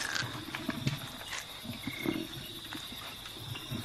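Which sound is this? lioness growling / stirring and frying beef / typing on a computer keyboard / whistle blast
lioness growling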